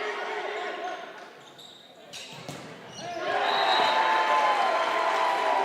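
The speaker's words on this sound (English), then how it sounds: "that rhythmic applause from the Central fan base here, trying to rally their team" Volleyball fans of Central York at a high school match against Northeastern keep up rhythmic applause, a dense steady wash of clapping that dips briefly and then swells louder, with crowd noise and a commentator's voice over it.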